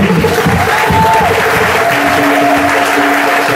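A church congregation applauds loudly and steadily, a dense wash of clapping from many hands, with a few voices and tones ringing faintly through the crowd noise.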